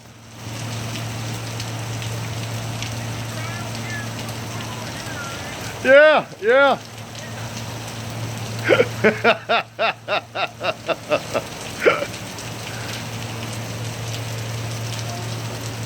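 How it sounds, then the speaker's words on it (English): Hail falling hard and steady, a dense rattling patter that carries on throughout, with a few short spoken words and a burst of rapid clicking partway through. "Boy, it's hailing."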